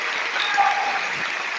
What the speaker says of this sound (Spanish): les pedimos un reconocimiento y un aplauso a la compañera Elizabeth